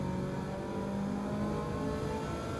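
A car engine in the video game Gran Turismo 7 revs with a steady, buzzing mid-pitched tone, loud and continuous throughout the short stretch, with no voices.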